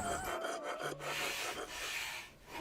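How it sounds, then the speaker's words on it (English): Wet sandpaper rubbed over the surface of a handmade metal mirror, producing soft, continuous close-up scraping and rasping strokes at low volume. "uses wet sandpaper to smooth the mirror's surface"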